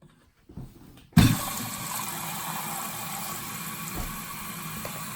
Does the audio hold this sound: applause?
no